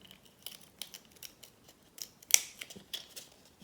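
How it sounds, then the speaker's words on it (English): Scissors snipping around the edges of a small cardboard matchbox craft shape, a run of short crisp cuts close to the mic with one sharper louder snip partway through, no talking. "it's a bit easier to get your scissors in"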